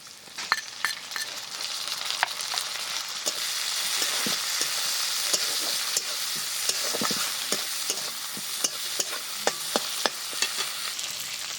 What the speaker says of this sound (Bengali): পেঁয়াজ খুব ভালো করে ভেজে নিয়েছি। এবার দিয়ে দিচ্ছি টমেটো কুচি।